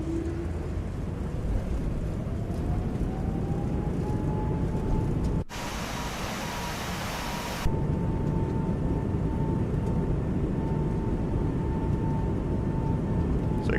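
Qantas A220 touching down and rolling out on the Hamilton Island runway, with a loud, steady broadband roar from the engines and thrust reversers. A rising engine whine is heard, and the roar cuts out abruptly midway, then resumes.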